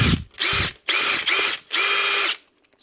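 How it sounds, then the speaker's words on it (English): A repaired Makita DTD153 brushless cordless impact driver runs free in three close bursts of high whirring motor and mechanism noise, each start and stop clearly separated, with no talking. "It's actually a DTD153 repaired. Brushless Makita impactor."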